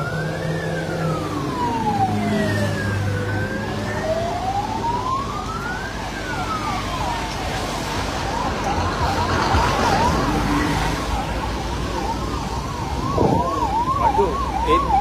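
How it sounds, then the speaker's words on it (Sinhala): An ambulance siren wails in slow rising and falling sweeps, then switches to a rapid yelp, loud and near over street traffic noise. "ඔව් මේ ඇම්බියුලන්ස් එකත් මෙහෙට ගහගත්තට හරි දැන් මේක එනවා."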